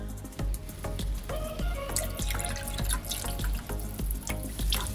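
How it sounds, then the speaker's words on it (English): Sparkling soda water pours into a mojito glass, a close run of trickling, dripping splashes and small clinks that continues steadily, without speech. "Then all we need to do now is add some soda."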